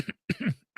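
A man gives a couple of short, dry coughs close to the microphone, three quick bursts with brief gaps, no talk around them.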